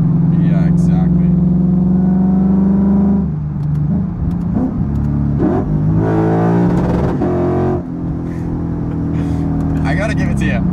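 Modified Lexus IS F V8 with an aftermarket exhaust revving hard and bouncing off the rev limiter, a loud, steady engine drone rising and surging in pitch, with people talking over it.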